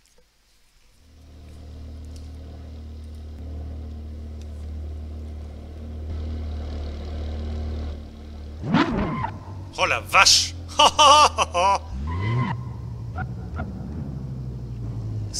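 V10 car engine in the video game Assetto Corsa, a deep steady idle drone that rises into sharp, loud revving bursts near the middle before settling again, with someone speaking over it.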